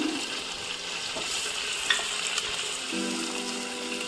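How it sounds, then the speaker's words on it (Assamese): Ground garlic paste fries in a pan, giving a close, steady crackling sizzle with a couple of light stirring taps and no talking. "অকণমান ভাজি ল'ম।"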